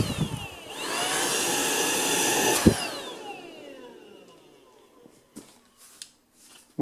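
Tineco Pure One S11 handheld vacuum cleaner with a small crevice nozzle on a sofa, a loud rising whine that holds for a couple of seconds, then spins down into scattered clicks and handling knocks.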